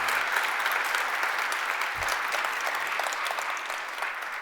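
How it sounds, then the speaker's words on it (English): Audience applause for a health service, a steady full round of clapping from a crowd that holds at an even, loud level throughout. "if you will now just give a resounding round of applause to"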